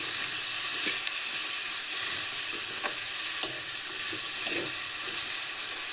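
Cluster beans and tomato fry in oil with a steady, close sizzle and occasional stirring clicks from a spoon. There is no talking.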